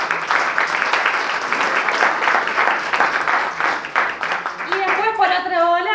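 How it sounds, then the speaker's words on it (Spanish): Applause from an audience at a communications talk, dense clapping for several seconds that gives way near the end to a voice speaking or singing over the fading claps. "pido un aplauso para ella"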